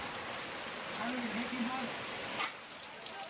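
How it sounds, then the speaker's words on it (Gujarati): Light rain patters softly in the background while a voice speaks briefly over it; the steady hiss continues faintly to the end. "આપણે આવ્યા ને એટલે થઈ ગયો વરસાદ ચાલુ"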